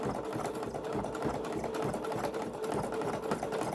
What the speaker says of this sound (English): I'm just going to sew this one as well